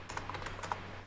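Computer keyboard keys tapped in a quick, light burst of several clicks, close and fairly quiet, with no voices.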